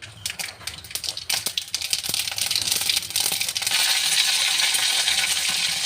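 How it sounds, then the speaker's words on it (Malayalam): Mustard seeds hit hot oil in a pan, first as scattered sharp ticks and pops, then building into a dense, continuous sizzling crackle that grows louder and steadier toward the end. "നമുക്കിതിലോട്ട് ഇനി കടുക് ഇട്ട് കൊടുക്കാം."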